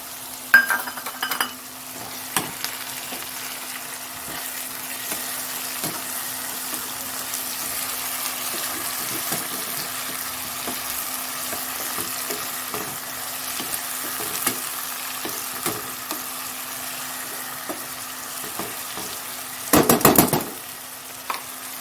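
Tomato and garlic sizzle and fry in a pan with browned onion, a loud steady crackle close up, broken by a few spoon clinks and stirring and a louder burst near the end.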